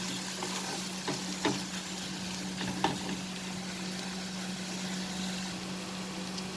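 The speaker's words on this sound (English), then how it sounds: "I will saute this onion till they become slightly cooked." Onions sauté steadily in a pan with a constant soft sizzle and faint crackle, a few light utensil taps breaking through, close and quiet with a low hum underneath and no talking.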